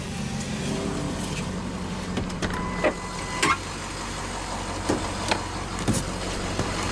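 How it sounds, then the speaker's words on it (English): The driver's power window of a 2007 Ford F-350 Super Duty Lariat crew cab truck with a 6.0L engine hums as it rolls down, the motor drone steady and close, with a few clicks and thumps along the way. "The driver's window is automatic down."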